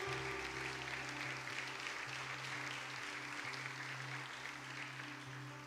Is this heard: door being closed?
no